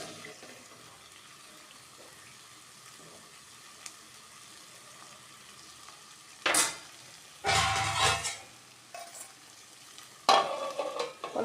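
Egg masala stirred in a pan, with a few short scraping bursts near the end of an otherwise quiet stretch; the stirring is loud and close.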